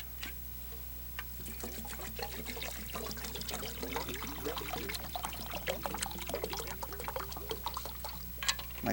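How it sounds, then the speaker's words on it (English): Water pours steadily into a cooking pot for a Depression-era Christmas pudding, a continuous close trickling and splashing over a low constant hum, gradually building, with no speech. "Next, we're going to fill this about halfway with water."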